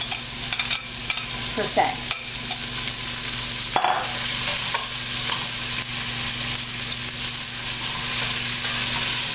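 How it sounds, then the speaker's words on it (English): Onions fry in a pan with beef drippings, a steady close sizzle running throughout, broken by occasional scraping and clacking as they are stirred, with a brief mumbled word. "So we're going to brown the onions."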